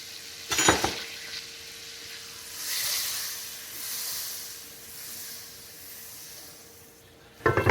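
Oil heats in a preheated pan during chicken breast preparation, giving a soft steady sizzle and hiss that swells and fades, with sharp clattering bursts near the start and end.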